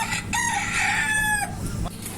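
A rooster on a desi chicken farm crows once, loud and close, a long drawn-out call that rises and holds before cutting off, followed by brief faint clucking.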